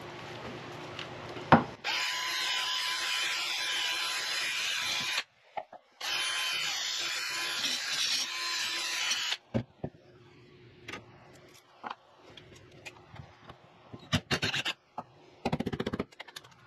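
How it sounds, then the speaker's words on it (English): A wire wheel spins against the threads of a steering part from a 1974 VW Bus camper, producing two bursts of harsh, bright scrubbing separated by a short pause, followed by scattered clanks and brief handling noises. "I've got wire wheel ready. I'm gonna clean it up"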